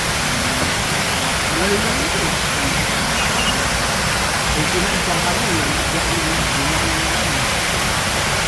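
Water rushing along a stream beside a shaded forest trail at Ho Pui Reservoir in Hong Kong, a steady dense hiss with no breaks, close and constant, with faint voices underneath.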